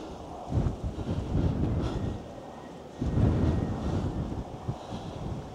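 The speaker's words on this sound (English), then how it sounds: "It's still really windy at the moment, but at least it's not raining" Strong wind outdoors in the Outer Hebrides buffets the microphone in two long, heavy rumbling gusts separated by a brief lull, loud and close.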